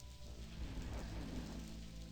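Steady rain pours in a dark video game scene, a dense, even hiss of drops with low rumbling underneath, constant and close for the whole stretch with no voices.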